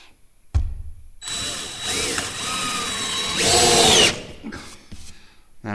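Power drill driving a screw to snug a loose wooden trim board in a rustic mountain cabin, a loud whirring run in two bursts that rises in pitch, preceded by a knock and followed by a few soft clicks.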